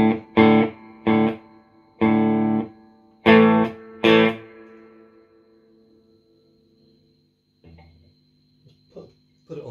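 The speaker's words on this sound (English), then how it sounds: "I'll just turn the amp on distortion." Electric guitar played through an amp on distortion, several loud chopped chord stabs in quick succession that ring and fade, followed by quieter scattered plucks and picking noise near the end.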